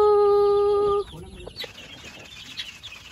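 Young Dekalb White chickens, about six weeks old, at an outdoor feeder: a sustained high tonal call at first, then scattered soft clucks and chatter under a light ambient background.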